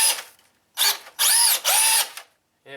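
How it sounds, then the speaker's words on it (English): Small electric motor of a scale RC Jeep Liberty KJ whining in several short throttle bursts, rising and falling in pitch, close and loud with quiet gaps between. "Here's a little throttle burst."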